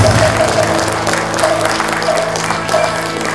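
Audience applause greets the newly inaugurated fifth president, a Buddhist grand master, at an anniversary and inauguration ceremony; steady sustained clapping fills the whole stretch, loud and close, with a faint voice running underneath.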